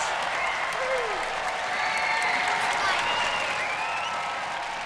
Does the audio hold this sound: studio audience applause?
yes